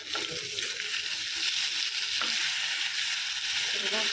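Chicken pieces fry in a pan in a home kitchen, giving a steady, close sizzle with soft stirring scrapes and little else.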